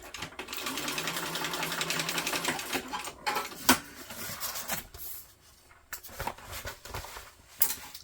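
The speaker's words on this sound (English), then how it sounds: "Actually, what I'm going to do first is just sew up the edges so that they don't come loose." A home sewing machine runs along the edges of a fabric travel bag in a steady buzzing burst, then stops and restarts in short stitches amid fabric handling and rustling.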